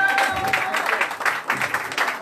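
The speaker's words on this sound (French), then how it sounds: "Applaudissez-vous" Audience applause at a hairdressing school graduation and diploma ceremony, brief and patchy, with a voice speaking over the scattered clapping.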